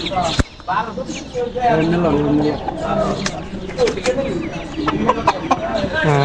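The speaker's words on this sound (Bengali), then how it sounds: "আপনারা দেখতে পাচ্ছেন অরিজিনাল টাইগার মুরগি ভাইয়ের হাতে।" A tiger-breed chicken held in hand at a busy market, giving close clucks and squawks among people talking and market chatter.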